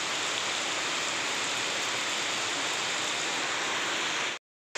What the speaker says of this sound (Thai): ฝนตกหนักมากครับท่านผู้ชม